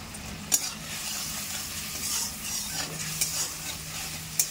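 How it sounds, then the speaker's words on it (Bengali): Cumin paste and turmeric sautéing in oil in a pan for vegetable dal: a soft, continuous sizzle with a few sharp stirring scrapes at scattered moments, fairly quiet and with no voices. "ভালো করে মশলাটা কষিয়ে এক এক করে সবগুলো সবজি দিয়ে দেবো"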